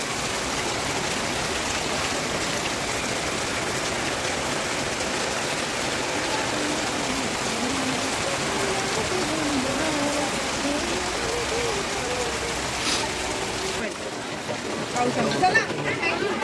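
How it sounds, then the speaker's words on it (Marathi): Heavy monsoon rain in the Konkan region pours steadily in a dense, unbroken hiss for a long stretch, easing slightly near the end. "कोकणातला पाऊस बघा किती जोरदार आहे"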